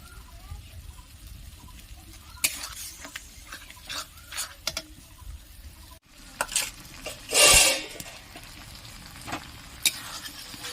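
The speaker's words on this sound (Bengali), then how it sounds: "দেখুন বন্ধুরা এবার আমি মশলাটি ভালো করে কষে নেবো" Poppy seed paste masala frying and being stirred in a pan for a prawn and pointed gourd curry, with a steady low sizzle, scattered scraping strokes and a louder burst of frying near the middle.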